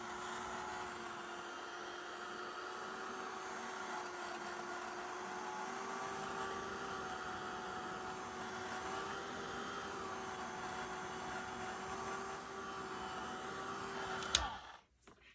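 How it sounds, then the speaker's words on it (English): A heat gun blows steadily and loudly, drying lime green and tan sublimation acrylic paint on a camo pattern, with a constant whirring roar that cuts off abruptly near the end. "to heat it with the heat gun to speed up the drying again"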